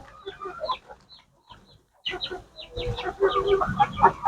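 Chickens cluck close by in short, irregular bursts with a brief lull in the middle, then grow busier and louder as several birds call over one another.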